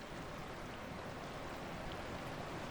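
Water flows and splashes in flooded underground caverns on a coaster ride in the video game Planet Coaster, a constant broadband rushing hiss like a stream, steady and moderately quiet, with no talking.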